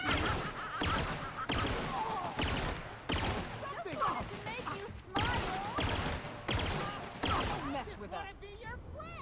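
Heavy weapons fire in The Outer Worlds comes as repeated loud bursts of gunfire, roughly one a second, mixed with combat effects and brief chatter in the game.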